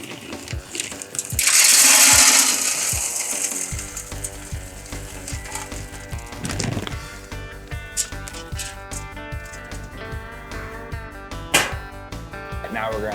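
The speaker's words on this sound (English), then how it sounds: "So now we're just gonna load up some cherry wood pellets" Cherry wood pellets loaded into a Traeger grill: a brief rushing pour of pellets is followed by scattered rattling clicks and ticks as they settle, with a voice talking alongside.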